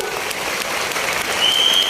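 A crowd applauds steadily, dense clapping that holds even and grows slightly louder toward the end, with no talking.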